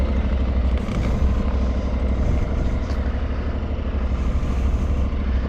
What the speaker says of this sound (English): I just turned on the Aprilia for the first time. Listen to this thing. It has an SC exhaust on it.